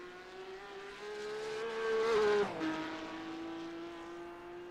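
A Porsche Cup race car in a sim racing game at Imola brakes hard for turn 14, the engine note climbing and then dropping sharply as it downshifts, heard faintly and alone.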